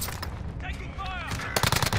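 Gunfire in the Warzone battle royale on Rebirth Island, a burst of close shots cracking loudly near the end after a stretch of busy game noise and a soft voice-like tone in the middle.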